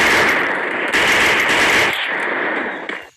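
Video game machine gun fire ripping out in long continuous bursts, loud and close, with a short break near the middle and a tapering rattle before cutting off.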